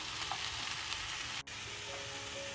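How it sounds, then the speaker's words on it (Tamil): Ivy gourd with chilli powder and crushed garlic sautés in a pan over low flame, giving a soft, steady sizzle with one brief dropout midway. "இதை வந்து நம்ம லோ ஃப்ளேம்லேயே வச்சு கொஞ்சம் நேரம் வதக்கிட்டு அப்படியே டீப் ஃப்ரை பண்ணணும்"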